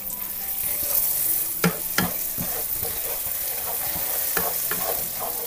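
Butter dropped into melted caramel for peanut nougat sizzles steadily and loudly, with a couple of sharp utensil clicks as it is stirred through and no one speaking.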